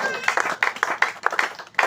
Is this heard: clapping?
yes